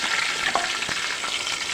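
Chopped garlic dropped into hot oil in a pan with fried chillies sizzles steadily and close, with a few light stirring scrapes.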